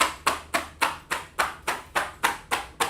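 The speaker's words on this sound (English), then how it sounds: "let's clap it up for class." A class claps together in unison, about eight sharp, evenly spaced claps in a steady rhythm, close and clear with no voices.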